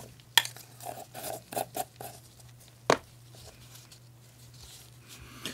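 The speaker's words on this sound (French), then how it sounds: "on va essayer de mélanger les deux produits" Two wall filler products being mixed together with a tool, soft scraping and dabbing strokes in a quick irregular rhythm, close and quiet, with one sharper tap midway.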